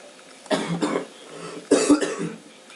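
A man coughs twice, about a second apart, in sharp throaty bursts close to the microphone, during live commentary over a FIFA 13 football video game.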